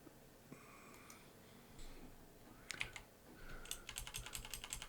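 Keystrokes on a laptop keyboard, set against a Snapdragon X Elite versus Intel and AMD computer comparison: a few soft scattered taps, then a quick, close burst of typing near the end over a faint steady hum.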